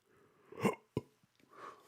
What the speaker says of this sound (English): Sorry, that was a yawn and a burp.